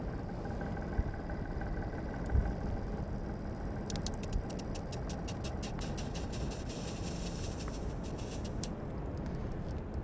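A small Stirling heat engine runs at a demonstration, giving a faint steady whir, then a run of quick, regular ticking for several seconds.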